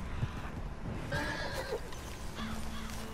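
A horse whinnies in the open-world game Red Dead Redemption 2, a clear neigh near the middle over a steady outdoor ambience, with light hoof clip-clop and soft background noise.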